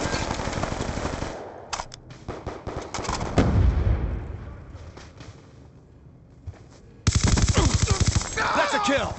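Rapid automatic gunfire from the Black Ops II video game, with loud repeated bursts in stretches across the clip and pauses between them, and voices shouting over parts of it.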